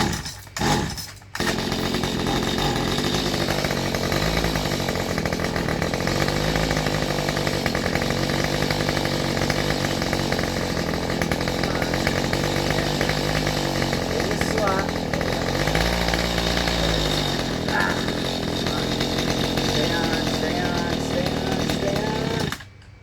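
Small two-stroke engine on a Mantis tiller, running after a carburetor diaphragm replacement, starts with a couple of pops and then holds a loud, steady buzzing idle with slight rises in pitch, cutting off at the end.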